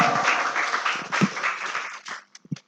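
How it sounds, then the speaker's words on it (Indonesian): A live audience at a campus expo talk show claps for about two seconds, a dense patter that thins into a few scattered final claps before stopping. "Tepuk tangannya dulu dong."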